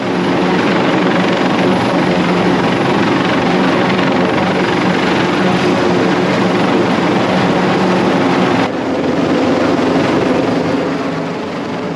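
A loud, steady medical evacuation helicopter roar with rotor chop fills the whole stretch, close and continuous over a passenger ship's deck, easing slightly near the end.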